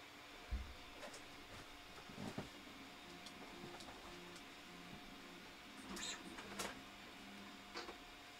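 An Artillery Sidewinder X1 3D printer runs quietly, a soft steady fan hum with faint stepper-motor whines and small clicks, low in level with no talk.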